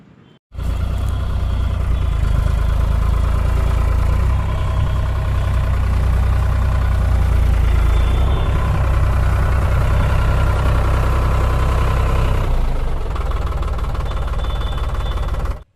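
A New Holland 3630 tractor engine idles close by, loud and steady, with a deep, even chug that holds throughout before it cuts off near the end.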